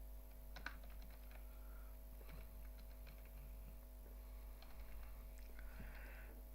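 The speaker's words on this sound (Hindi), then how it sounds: "एक्सेल को ओपन करने के बाद यहाँ चंद वैल्यू में टाइप कर रहा हूँ।" Soft, faint keystrokes tap on a computer keyboard while values are entered into Microsoft Excel, irregular and close over a low steady electrical hum.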